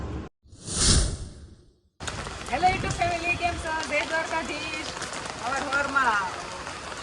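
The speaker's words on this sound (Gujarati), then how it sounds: "હેલો વરસાદ" A soft, steady hiss of rain runs under a person talking, opening with a loud brief whoosh.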